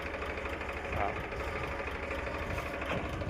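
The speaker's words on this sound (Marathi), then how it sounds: "हे आमचं ट्रॅक्टर चालू झालं." A steady low tractor engine rumble runs throughout, a continuous mechanical drone with faint voices underneath.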